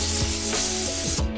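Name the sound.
brush and compressed air cleaning dirt off fuel pump hanger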